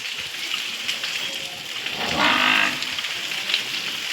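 A village buffalo calls once in the rain, a short, fairly close low bellow over a steady background hiss.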